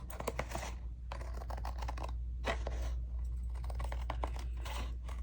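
Scissors cut straight across old scrapbook paper in quiet bursts of crisp snipping and rustling. Brief pauses separate the bursts, and the sound stays soft and close.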